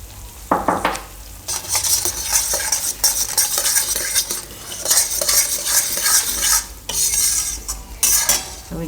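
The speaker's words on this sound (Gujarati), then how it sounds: "હવે એમાં આપણે નાખી દઉં આ ડ્રાયફ્રૂટ, કાજુ ને બદામ. તો એ ઘીમાં ભેગું શેકાઈ જાય." Cashews and almonds roasting in ghee with semolina in a pan, a close sizzle under repeated loud scraping and clinking of a metal spoon stirring in bursts, with no voices.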